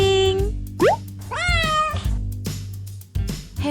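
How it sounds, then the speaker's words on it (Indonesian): A domestic cat meows several times in a row, close and clear, with rising and falling cries over a steady low background hum and no talk. "Kucing."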